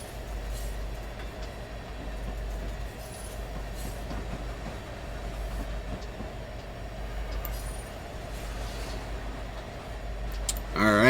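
A coal train runs on the Union Pacific Pleasant Valley line in Train Simulator 2019, a steady low engine rumble with rolling wheel noise throughout and a sharp squeal right at the end; no one speaks.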